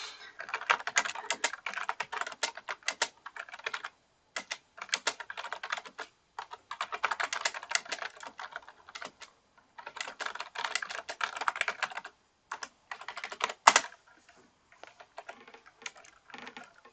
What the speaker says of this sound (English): You're just going to hear me typing this whole time.